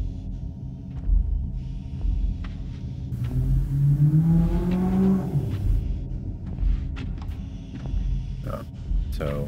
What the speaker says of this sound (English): Car just rolled by